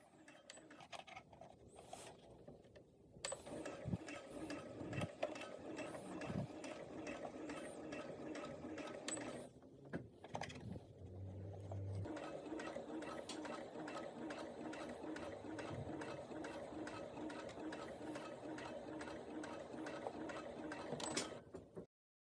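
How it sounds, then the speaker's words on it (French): A sewing machine stitches along an existing seam on a skirt, its mechanism whirring in a steady, fast rhythm for long stretches. The sound is close but moderately quiet, with short pauses and no talking. "je viens coudre sur la première couture"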